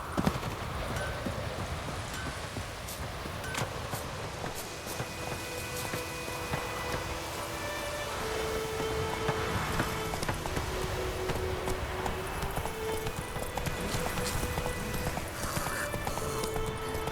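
Roach the horse trotting in The Witcher 3, a steady rhythmic clip-clop of hooves on the ground over outdoor ambience and game sounds, continuing at an even pace throughout.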